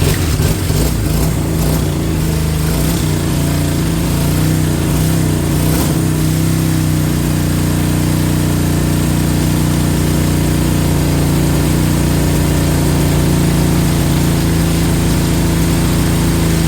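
Honda CB200 motorcycle engine idling steadily up close, a loud continuous low rumble with a few throttle blips near the start, no voices.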